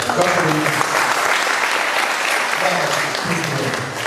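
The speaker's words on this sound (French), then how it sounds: "Applaudissez pour les femmes." Church congregation applauding steadily at a service about the women's ministry, a dense continuous clatter of many hands with some voices mixed in throughout.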